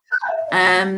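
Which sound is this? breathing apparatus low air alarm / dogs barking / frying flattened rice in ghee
dogs barking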